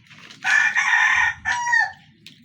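A fighting rooster crows loudly and close by, one long drawn-out call followed by a second shorter crow, with faint clucking underneath.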